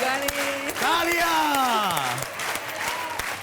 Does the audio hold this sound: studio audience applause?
yes